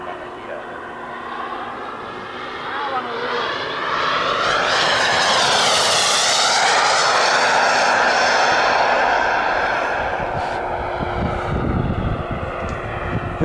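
A propeller airplane engine drones loudly and steadily during landing, heard from the cockpit with rushing wind noise and a pitch that swells and settles as the aircraft comes down.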